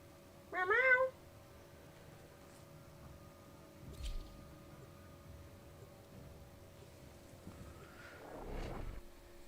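A single short cat meow rings out near the start, followed by a long, quiet indoor stretch with only faint scattered rustles.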